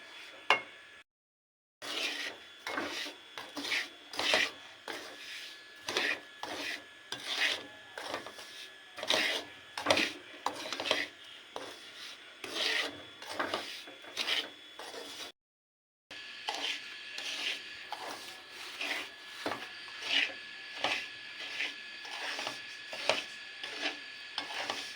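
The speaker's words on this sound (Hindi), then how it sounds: "इसके अंदर सूजी ऐड कर देंगे और इसे हम इसे अच्छे से मिक्स कर देंगे।" Semolina being stirred and roasted in a pan for panjeeri, a steady run of scraping, rubbing strokes close by, repeated in quick rhythm with two brief pauses and no talk.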